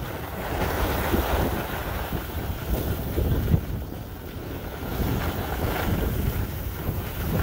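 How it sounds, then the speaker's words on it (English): Wind gusts across a ski slope at Whiteface Mountain on a sunny, cold day, a steady broadband roar buffeting the microphone throughout with no voices. "The wind was just kicking up now"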